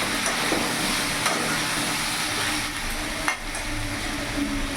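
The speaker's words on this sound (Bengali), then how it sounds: "ভালো করে নাড়াচাড়া করে নিলাম।" Cumin and chili powder are stirred into a pumpkin curry in a pan, giving a steady close sizzle and hiss with a few faint spoon scrapes and clicks and no speech.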